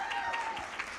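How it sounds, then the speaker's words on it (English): Audience applause at a TEDx UNB 2019 event for the delegates, a brief, fairly faint wash of clapping from a crowd with a thin tonal hum running underneath. "A round of applause for you, the amazing delegates that made today possible"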